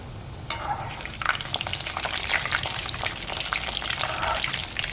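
Rolls for a Jaffna-style recipe deep frying in hot oil give a steady, close, loud bubbling sizzle that swells after the first half second and keeps crackling without pause.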